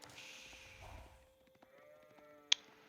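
Sheep in a medieval strategy game bleat softly a few times at close range, followed by a single sharp clicking blip near the end.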